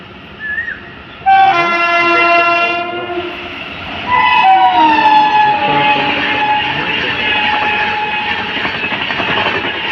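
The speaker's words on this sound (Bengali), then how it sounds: "তো আমাদের সামনে এখন চলে আসছে দূরতলা ট্রেন।" A double-decker Rajdhani Express train's horn blares loudly, followed by the sustained roar and rumble of the train rushing past close by.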